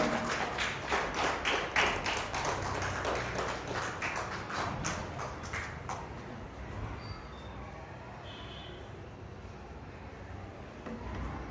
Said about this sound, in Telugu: మరి దేవుని యొక్క మాటలు వినడానికి మన మధ్యలోనికి మనల్ని ఎంతగానో ప్రేమించి మరి వచ్చిన రెవరెండ్ డాక్టర్ ప్యారీ అబ్రహాం గారిని మరి చప్పట్లు కొడుతూ ముందుకి ఆహ్వానిద్దాం.